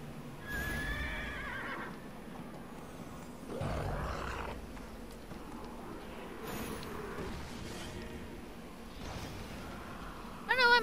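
A horse whinnies a few times over a busy game soundscape with hoof clip-clops, roaring and a sharp sound burst at the end.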